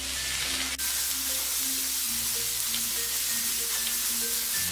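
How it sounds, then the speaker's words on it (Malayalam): Beans are added to hot garlic in a pan over high flame for fried rice, giving a constant sizzle under steady background music. "ഗാർലിക് ഇട്ട് ഒന്ന് ചൂടായ ഉടൻ തന്നെ ബീൻസ് ഇതിലേക്ക് ചേർത്ത് കൊടുക്കാം."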